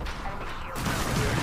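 Gunfire in the Apex Legends video game, a burst of rapid shots that grows louder and denser in the second half, mixed with game effects.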